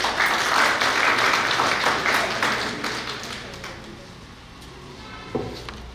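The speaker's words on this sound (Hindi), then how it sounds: "एक बार जोरदार तालियों से" Applause from an audience at a Swami Vivekananda Jayanti and Gahoi Divas celebration, strong clapping at first that gradually thins and fades, ending with a few scattered claps and a small knock.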